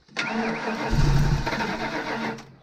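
An old vehicle left unused for about five years starts up: a brief crank catches into a loud, close engine roar that swells, then holds a rough, steady idle before cutting off.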